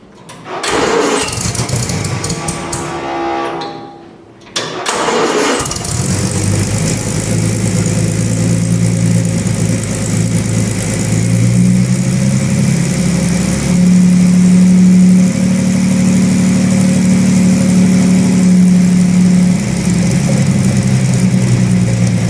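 A custom-built boat-tail speedster engine with a Flowmaster muffler on its homemade exhaust cranks, catches and settles into a loud, deep idle close by, with a steady low rumble that swells slightly partway through.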